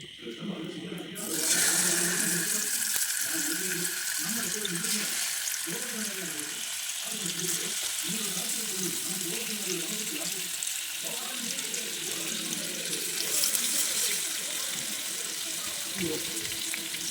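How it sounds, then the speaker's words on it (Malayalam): Fish fries in coconut oil in a pan over a low flame, a continuous bubbling sizzle that runs throughout beneath a person talking. "ഇതൊന്ന് വെളിച്ചെണ്ണയിൽ പൊരിക്കുക മീൻ പൊരിക്കാം"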